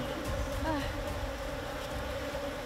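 Steady insect buzzing fills the clip, a dense continuous drone of many bees close by with no pauses.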